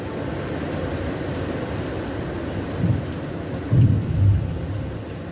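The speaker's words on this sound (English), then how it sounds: "She's a real tropical squall coming through." A tropical squall drives a continuous wash of heavy rain, with low rumbles of thunder swelling briefly near the end over a steady, dense roar.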